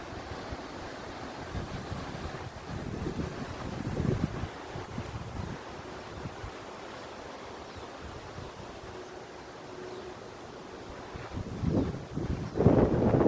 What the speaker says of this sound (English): That wind. Where the hell is that coming from?